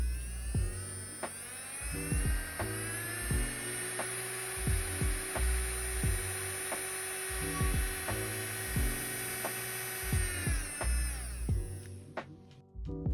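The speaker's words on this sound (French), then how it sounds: "une petite vidéo en laissant le son pour vous montrer le bruit de la ponceuse" A Kredioo cordless nail sander running, a steady high whine with a low motor hum beneath and regular ticking clicks, close and alone until the motor winds down near the end.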